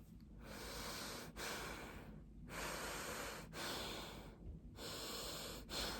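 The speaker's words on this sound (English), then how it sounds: "I'm gonna breathe with my nose." Breathing in and out through the nose behind a silk face mask, soft airy breaths alternating in a slow, steady rhythm, each breath separated by brief quiet pauses, close and faint.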